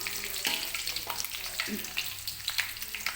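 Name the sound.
stir-frying shallots with galangal, bay leaves and lemongrass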